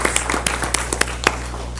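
Applause at a school board meeting for students and a healthcare sponsor: a short run of sparse, distinct hand claps, fairly close and crisp, over a steady background hum.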